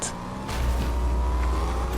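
A car in the video game Fortnite drives off, its engine swelling to a steady, close drone that runs to the end without speech.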